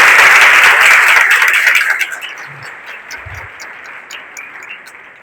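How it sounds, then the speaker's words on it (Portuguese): A congregation in church applauds altar servers, a dense, loud wash of clapping that fades after about two seconds into scattered claps and quiet room murmur. "Uma salva de palmas para os nossos coroinhas, cerimoniários."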